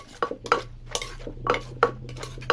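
Som tam salad being pounded in a mortar: a quick, uneven series of about half a dozen close thuds with sharp clinking knocks, heard alone.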